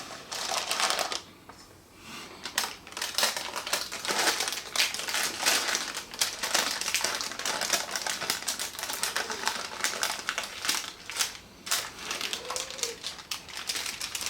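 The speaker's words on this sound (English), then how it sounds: "Remove the paper from the base and the sides and transfer the cake onto a plate" Baking paper is peeled off the base and sides of a no-bake chocolate crunch cake, giving a continuous close crinkling and crackling with short tearing rustles.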